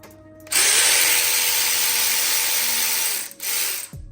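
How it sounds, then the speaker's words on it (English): A power tool spinning out a T30 bolt on an Audi 4.0T V8 engine during teardown, a loud close whirring drill run of about three seconds, a brief drop, then a short second burst. "Next, I'm going to remove this bolt right here. It's a T30."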